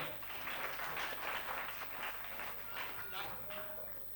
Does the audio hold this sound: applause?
yes